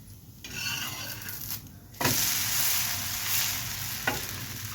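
Sponge dosa frying on a hot pan gives a steady close sizzle and hiss, with a couple of sharp spatula scrapes or taps.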